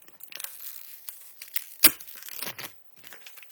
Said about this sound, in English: This is the best part of doing it, is peeling this off.